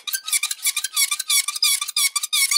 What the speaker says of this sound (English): the squeaky thigh rotation